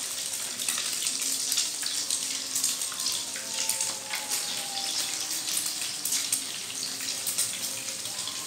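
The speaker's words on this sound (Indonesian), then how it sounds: "Ini tahunya mulai aku goreng. Ini kita goreng sampai kering." Tofu frying in oil for a home-cooked Indonesian side dish, a steady close crackling sizzle with fine popping that holds evenly throughout, no voices.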